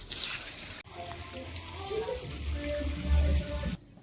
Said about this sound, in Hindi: तो देखिए ये पानी मैंने लगा दिया है पूरे में।